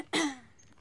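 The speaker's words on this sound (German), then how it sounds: "Sie hat diesen Räusper-Tick." A woman clears her throat once, a short sharp rasp that fades over under a second, close and fairly loud with no talk around it.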